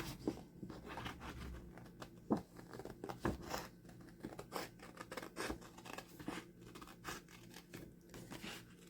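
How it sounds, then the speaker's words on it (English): Small scissors fussy-cut paper ephemera with a sewing theme, producing a quiet, close string of irregular snips and light paper rustles. "And then I just fussy cut it out carefully."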